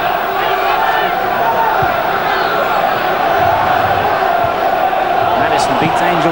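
A capacity crowd of 12,000 at Edgeley Park roars during a 1997 League Cup quarter-final between Stockport County and Southampton, a loud, sustained wall of cheering and chanting that rises in places and never drops away.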